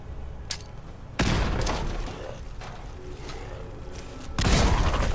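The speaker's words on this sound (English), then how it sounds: "So let's use one of my grenades" A grenade goes off in Fallout 4 with a loud boom that rumbles for several seconds, and a second blast bursts in near the end.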